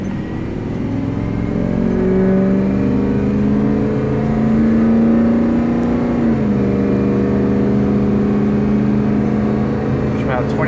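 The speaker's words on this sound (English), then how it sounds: "Show you a wide open throttle up the hill." A Ford F250 truck pulls uphill at wide open throttle, a loud, steady engine drone with a rising whine that holds, dips briefly mid-way, then continues, with a voice talking over it.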